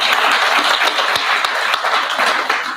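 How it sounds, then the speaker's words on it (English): A round of applause at the Tshwane Leadership Summit 2019 for the two women organisers, a loud, sustained burst of crowd clapping with a few sharper claps standing out. "I want us to give them another round of applause"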